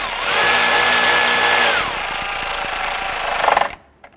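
Power tool driving and tightening bolts on a 2012-2017 Toyota Camry, a loud close whirring whine that shifts in pitch as the bolts seat, then stops abruptly.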